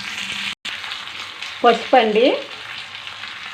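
Mustard seeds, cumin, dried red chillies and curry leaves sizzle steadily in hot oil, with a brief gap and louder crackling bursts as more goes into the pan; a voice briefly speaks over it.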